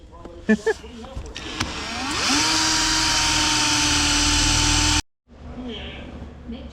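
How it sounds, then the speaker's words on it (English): A power drill spins up and whines steadily for a few seconds close by drilling out rusty bolts on a 1999 Honda Civic, then cuts off abruptly, with a few clanks before it starts. "So now we're up from the top, drilling them out"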